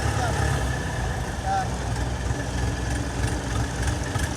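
A tractor engine runs at a low, steady rumble while the tractor is stuck on a deep sandy road, and voices talk over the continuous drone.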